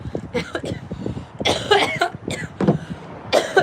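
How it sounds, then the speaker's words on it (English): Several harsh coughs break out in bursts, close and loud, with a throat-clearing rasp between them and some breathy vocal sounds. "Let me cough my lungs up real quick"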